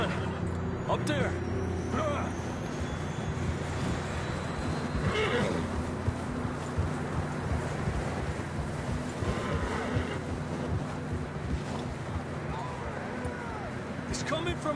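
A horse whinnies in the video game Red Dead Redemption 2, amid a steady windy outdoor ambience, with faint hoof and movement sounds in the background.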